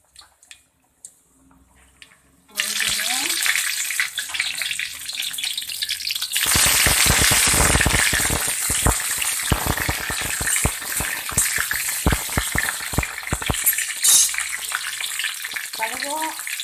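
Mustard seeds, dried chillies and thin green chillies frying in hot oil, a loud continuous sizzle with crackling pops that starts abruptly after a quiet moment and carries on steadily throughout.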